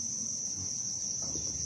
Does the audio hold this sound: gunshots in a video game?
no